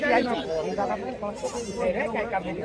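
Goats bleat in short wavering cries mixed with someone talking nearby at a goat market in Chalisgaon, the animal calls tangled into the chatter of a busy pen.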